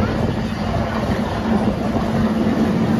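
Continuous rumble and rattle of a small amusement park train at Kennywood rolling along its tracks, steady and fairly loud throughout.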